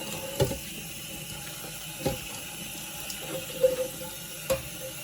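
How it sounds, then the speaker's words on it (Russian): Warm water runs steadily from a tap while a nonstick frying pan is rinsed, with occasional dull knocks of metal against the sink. "теперь ополаскиваем сковороду под теплой водой."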